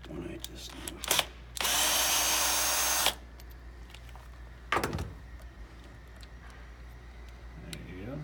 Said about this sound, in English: remove these four screws